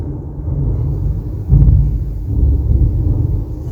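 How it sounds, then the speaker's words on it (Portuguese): Distant thunder during a storm, a low muffled rumble that swells sharply midway and then rolls on, deep and heavy with no other sounds over it. "Os trovão estão vindo na hora certa"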